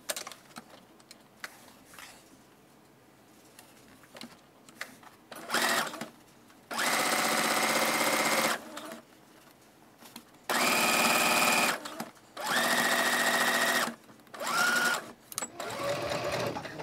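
A sewing machine stitches fabric for a face mask in several separate runs, each a steady mechanical whirr starting and stopping abruptly, with quiet pauses between bursts.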